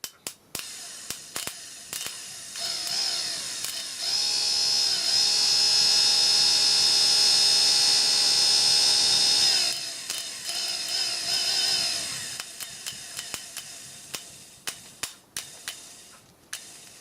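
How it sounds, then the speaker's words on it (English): A small Chinese-made electric motor whines on a test bench, rising to a steady high-pitched run for several seconds and then winding down. Sharp clicks and ticks come before and after, and no one talks. "Nice and quiet for a little Chinese motor."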